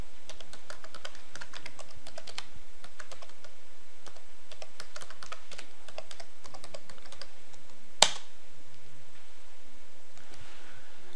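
A command is typed on a computer keyboard, with a close, quick run of clicking keystrokes followed by one sharper key press and a brief pause afterward.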